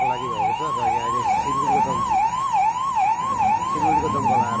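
A fire engine siren wails in a steady, rapid up-and-down cycle, loud and close, at a burning vehicle on a jammed road, with traffic rumbling underneath.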